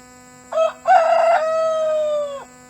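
A single rooster crows loudly and close by, one long cock-a-doodle-doo with a short first note, a brief gap, then a sustained drawn-out call that fades off.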